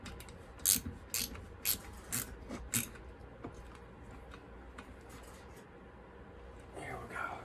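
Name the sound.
tightening bolts on a saw with a ratchet wrench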